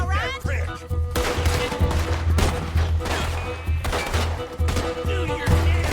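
Gunfire in Red Dead Redemption 2: repeated loud shots and bursts crack throughout a shootout, some close and sharp, others in quick volleys, mixed with shouted voices and game music underneath.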